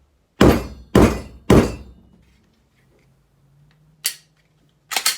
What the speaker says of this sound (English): I bang it against the table as hard as you want, as hard as I can